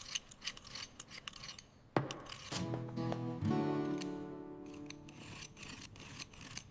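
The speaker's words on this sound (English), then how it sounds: "I will peel the carrots." A peeler scrapes along carrots in a home kitchen, repeated close rasping strokes in an uneven rhythm, broken by a sharp knock and a ringing metallic clatter midway, with no talk.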